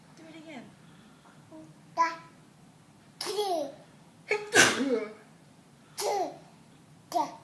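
A baby imitates a mother's sneeze with several short, sharp 'achoo'-like bursts spaced through the clip, mixed with babbling and close, soft adult voices.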